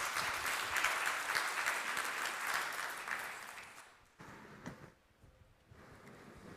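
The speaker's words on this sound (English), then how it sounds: "please a round of applause for our panel" Audience applauding a panel at an energy conference hall in Namibia, steady broadband clapping for about four seconds before thinning out into scattered claps and room noise.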